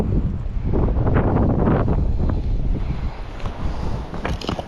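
Strong wind buffeting the microphone on a fast-flowing river while paddling against it: loud, rough roaring gusts, heaviest in the first half and then easing slightly, with no speech.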